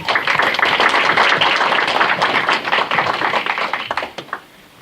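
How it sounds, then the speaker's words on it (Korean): An audience at an award ceremony applauds with dense, steady clapping for about four seconds, then the applause quickly fades away near the end. "여러분 큰 박수 부탁드립니다"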